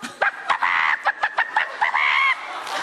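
A person imitates a chicken on a talent-show audition stage, producing a run of clucks and a rising, crowing call, loud and close, in a quick stuttering rhythm.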